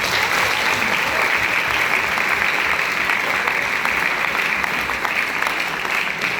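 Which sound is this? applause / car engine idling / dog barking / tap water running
applause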